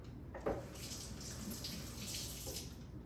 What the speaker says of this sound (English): the first thing you're going to do is wet your hands with a little bit of warm water